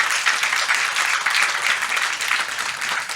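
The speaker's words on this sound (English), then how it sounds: "So this was an applause to the flag handing ceremony" An audience at a Nordic conference applauds an official flag handing ceremony, producing steady, moderately loud clapping that runs unbroken for a few seconds.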